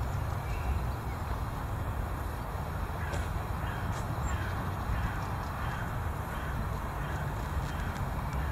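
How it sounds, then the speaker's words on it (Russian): A crow caws a few times at a distance in evening woods, faint short calls spaced apart over a steady low rustle of ambient noise, with no voices. "Ворона спорила со скорушкой, по-моему."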